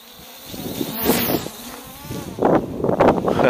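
MJX Bugs 2 brushless GPS quadcopter drone flying outdoors, a buzzing insect-like whine that swells and fades as it passes, rising louder toward the end, with some wind noise and no talk.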